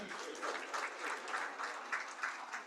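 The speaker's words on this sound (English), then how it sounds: "A round of applause for our very talented nursing students." Applause for nursing students after their performance at a Founder's Day lobby session, a steady, fairly faint patter of many hands clapping at a distance.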